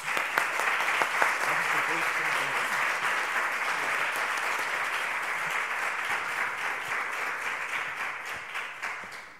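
An audience applauds at a literary conversation event, giving sustained, dense clapping that stays steady and fairly loud, with faint voices underneath and a slow fade toward the end.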